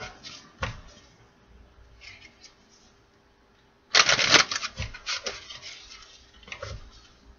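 A tarot deck is shuffled up close in brisk papery riffles, with scattered soft bursts and one louder, longer shuffle midway followed by quicker trailing flicks.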